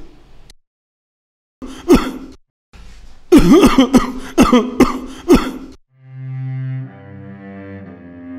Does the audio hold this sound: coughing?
yes